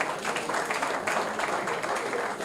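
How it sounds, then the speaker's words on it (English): Dense applause from a crowd at a youth summit in Nigeria, a continuous wash of many clapping hands, fairly distant and moderate, with some voices mixed in. "Please, a round of applause again."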